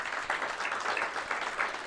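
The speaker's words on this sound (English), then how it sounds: "I request all of you to extend a loud applause to our speaker" A seated audience at a transfer pricing study course claps for the speaker, a soft, even patter of many hands heard from a distance, fairly quiet throughout.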